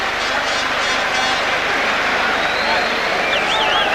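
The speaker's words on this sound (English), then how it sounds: "this crowd urging McGuigan on" Boxing arena crowd at a featherweight bout cheering on Barry McGuigan, a dense continuous roar of many voices with clapping mixed in, loud and steady throughout, a commentator speaking over it.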